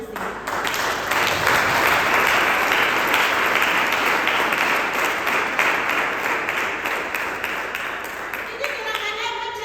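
A church congregation applauds in acclamation for the Lord with loud, dense clapping that fills the room, holds steady for about nine seconds, then thins out at the end.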